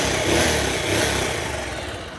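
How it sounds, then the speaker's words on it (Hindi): A Bajaj Pulsar 220 motorcycle engine with a ticking-noise fault runs loud and close, a steady rumbling idle that holds without pause and carries no speech. "पहले एक बार हम इंजन की साउंड सुनाते हैं आपको। ये देखिए, कुछ इस तरीके का आवाज़ कर रहा है।"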